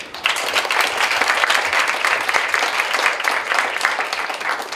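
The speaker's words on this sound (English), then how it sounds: "I propose to give these excellent, NextGen scholars a big round of applause." An audience at the CSIS-KU GSIS NextGen Roundtable at Korea University gives the scholars a sustained round of applause, dense, even clapping from many hands filling the room without speech.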